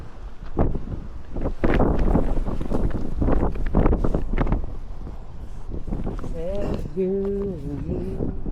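Gusty wind buffets the microphone in a strong, continuous roar while people talk excitedly over it, on a hike near the top of Pride Rock.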